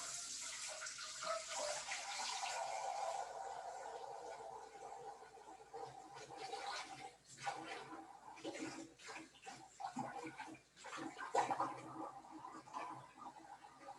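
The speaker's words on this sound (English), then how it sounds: "So I'm just going to wash that pot" Tap water runs into a kitchen sink while a pot is scrubbed clean, a faint continuous rush that breaks into uneven splashes and sloshing as the pot is moved.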